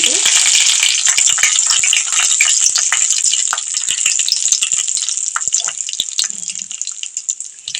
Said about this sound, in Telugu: కొన్ని మెంతులు వేసుకుందామండి కొన్ని ఆవాలు కూడా వేసుకుందామండి కొద్దిగా జీలకర్ర వేసుకుందామండి అలాగే ఎండుమిరపకాయలు కూడా వేసుకుందాం